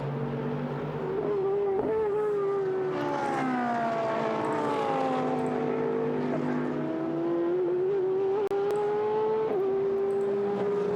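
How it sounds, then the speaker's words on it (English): Mercedes GT race cars battle for position on the Algarve circuit, their engine notes rising and falling as they pass, a loud sustained multi-car whine with clear gear-shift dips. "there are the Mercedes battling for 11th place"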